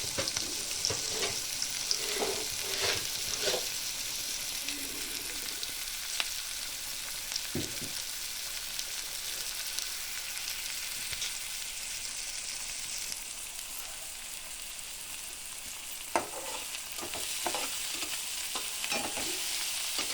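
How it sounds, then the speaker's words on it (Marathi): Onions sautéing in a pan for pasta, a steady soft sizzle with scattered scraping stirs and clinks of a spoon against the pan, close and fairly quiet, no talking. "कांद्याचा कलर बदलूस्तवर आपण ह्याला थोडंसं परतून घ्यायचं आहे"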